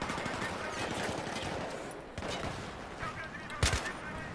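Rapid gunfire from the video game Battlefield 3 in a co-op match, dense bursts of automatic weapon fire running throughout at a steady loud level, with one sharper blast near the end.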